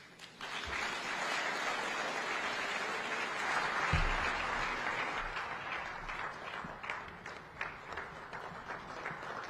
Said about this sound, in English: Once more, another round of applause for the incoming SADC Chairman, Dr. Emmerson Dambudzo Mnangagwa, ED.